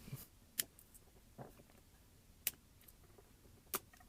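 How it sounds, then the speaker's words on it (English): Snips cut coil wire leads on a vape RTA, giving three or four sharp, faint clicks spaced a second or two apart in a quiet room. "So let me just cut these leads."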